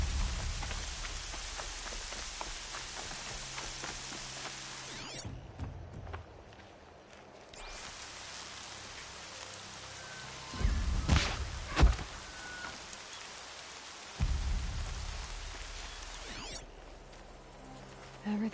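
Rain in the video game Horizon, a dense hiss of drops pattering on surfaces that drops away briefly and returns, with a few louder thuds and movement sounds mixed in.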